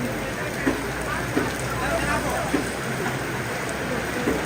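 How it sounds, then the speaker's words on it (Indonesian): Heavy rain pours down steadily outdoors in Kendari, Southeast Sulawesi, a loud continuous hiss with scattered sharper drops striking surfaces throughout. "Wah, kita lagi diguyur hujan."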